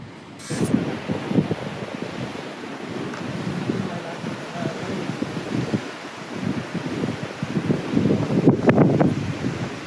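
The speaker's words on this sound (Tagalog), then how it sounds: "Medyo malakas din ang hangin." Gusty wind buffets the microphone with a constant rough roar, swelling louder toward the end, with faint murmuring in the background, at a bridge in Gunma, Japan.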